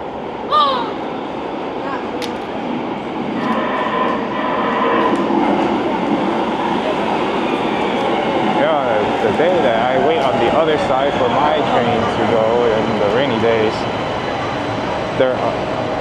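A train rumbles and hums steadily into a Santa Monica station, loud and close, with rising and falling mechanical whine throughout.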